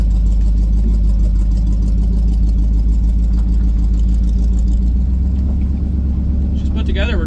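Buick 455-powered car engine running loud and steady on the road, a continuous deep rumble with a rising whine near the end; no talk over it.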